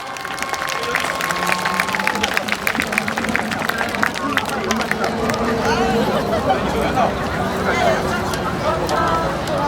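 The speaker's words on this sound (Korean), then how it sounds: "큰 박수 부탁드립니다" Sustained crowd applause and cheering from a music festival audience, dense and steady throughout with a murmur of voices mixed in.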